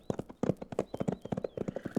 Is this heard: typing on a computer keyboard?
no